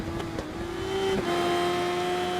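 An MV Agusta F4 Mamba motorcycle engine in the Ride 3 racing game drones steadily at high revs, pitch wavering slightly and rising as the bike accelerates, with no talk over it.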